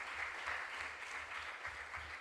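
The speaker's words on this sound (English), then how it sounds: "A round of applause for them as well." An audience claps for a school team at a junior science and maths quiz regional qualifier in the Ashanti Region, steady continuous applause from a hall crowd, soft and even throughout.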